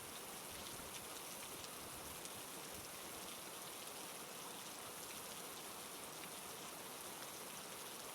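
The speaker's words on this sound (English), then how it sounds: "raindrops hitting the umbrella and ground" Steady rain patters on an umbrella and the ground, a continuous soft hiss of drops with no voices.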